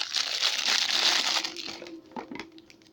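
Cellophane wrapping is peeled from a plain product box for a Weltool QM8 shotgun quick release gun mount, a close, loud crinkling rustle that fades into a few softer crackles and handling clicks, with no talking.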